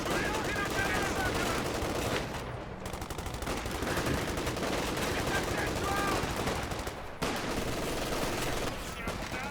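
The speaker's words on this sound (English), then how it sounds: "MG42 suppressing the assault officer" An MG42 machine gun rattles in Company of Heroes 2, sustained loud bursts of rapid fire amid battle noise with brief pauses, alongside faint speech.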